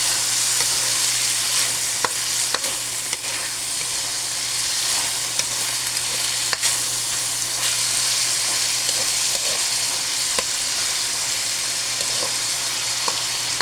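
Ingredients sauté in a hot pan for bean sprouts with tofu and pork, a continuous loud sizzle broken by occasional scrapes and taps of the stirring utensil, with no voices.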